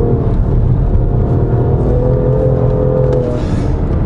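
A 2018 BMW M2 Competition, a short-wheelbase wide-track coupe, driving with a steady loud engine drone and low road rumble from inside the cabin, continuous and without talk.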